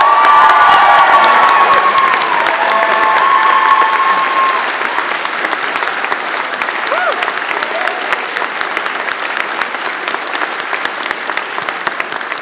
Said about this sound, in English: Please join me now in a round of applause acknowledging them.